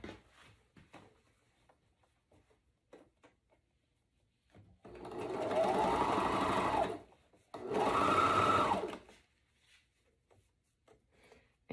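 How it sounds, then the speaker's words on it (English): A sewing machine stitches the arm side of a corset with a shelf bra in two steady bursts, about two and a half and one and a half seconds long, separated by a short pause, with quiet handling noises around them. "So now you're gonna sew this arm side."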